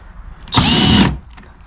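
A power drill whirs in one short, loud burst of about half a second while backing Phillips screws out of a Chevrolet Cruze light, with quiet handling noises before and after.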